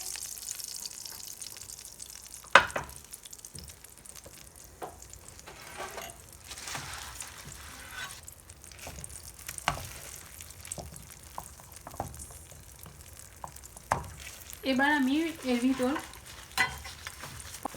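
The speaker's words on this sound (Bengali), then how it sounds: "তেল দিয়ে এটাকে ডিমটাকে ছেড়ে দিচ্ছি প্যানে।" Beaten egg with a pinch of salt poured into hot oil in a pan for a Kolkata egg roll, heard as a soft, steady sizzle with occasional scraping and stirring, plus a louder frying burst near the end.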